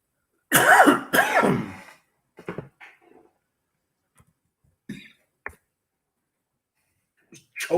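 A man on a radio show coughing and choking, with two harsh, close coughs in quick succession followed by smaller throat noises and scattered quiet clicks before near silence.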